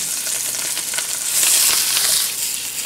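Venison searing in butter in a hot, slightly smoking frying pan makes a loud, bright, continuous crackling sizzle that swells briefly in the middle, close and with no voices.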